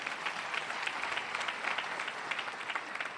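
A political audience at a Vox party talk on anti-corruption measures applauds steadily, a dense, sustained clapping throughout with no pauses or speech on top.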